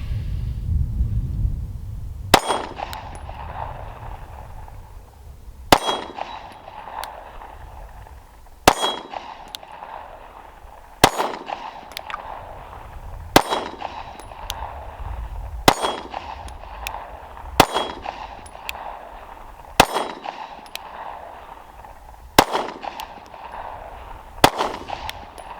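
A Sig P365 pistol fired at a steel target: about ten sharp, loud shots spaced a few seconds apart, each with a ringing metallic clang that decays before the next, and no talking.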